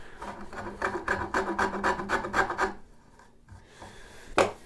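A file or rasp chamfers the ends of a piece of wood in a shop, making a close series of about eight rhythmic scraping strokes, then a pause and one final rasping pass.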